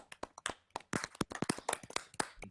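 A small group claps lightly for about two seconds, with quick, uneven, fairly soft hand claps close by.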